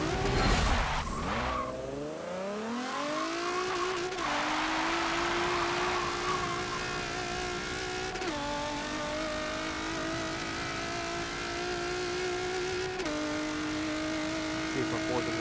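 Front-wheel-drive car in Forza Motorsport launching hard on a drag run with its spoiler fitted, tires squealing at the start, then a loud engine climbing steadily through the gears, with sharp drops at each upshift.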